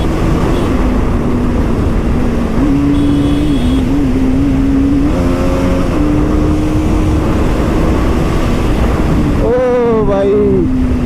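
Two RR superbikes ride fast side by side on an open road, their engine notes droning and rising under heavy wind roar, with a sharp climb in pitch as they accelerate near the end.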